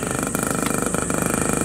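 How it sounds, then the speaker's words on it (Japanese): The engine of a 1947 Honda Model A motorized bicycle chugs rapidly at idle, a steady put-put rhythm close by with a faint background hiss. "さあ、エンジンかかりましたね。"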